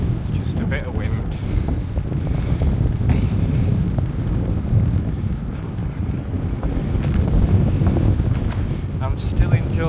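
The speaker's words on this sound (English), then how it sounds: "It's just a bit of wind." Heavy wind noise roaring over the microphone of a cyclist riding on a warm, dry day, a continuous low buffeting rumble with fluctuating gusts, with brief faint voice-like traces.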